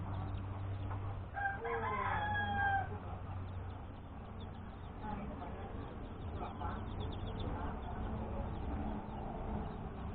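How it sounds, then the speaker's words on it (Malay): Three-day-old laying hen chicks peep in a cluster of high, shrill chirps early on, then fainter cheeping continues over steady background noise while a person talks. "inilah keadaan anak ayam penelur berusia 3 hari, baru 3 hari"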